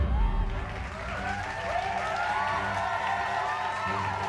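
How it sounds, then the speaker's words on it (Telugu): The studio audience of a Telugu TV game show claps steadily throughout, with crowd cheers and whoops. Voices and musical tones run alongside the applause. "ప్రేరణకు ఒకసారి గట్టిగా చప్పట్లు."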